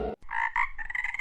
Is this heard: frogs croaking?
yes